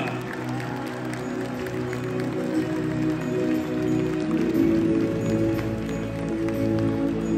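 Steady applause from a large audience at an awards ceremony, sustained and even throughout with a busy crowd hum and some musical tones mixed in.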